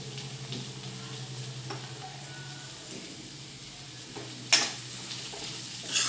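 Ghevda beans, brinjal and potato are stirred in a pan with a soft, quiet sizzle, a few scraping clicks and knocks of the spoon scattered over several seconds, with louder taps near the end.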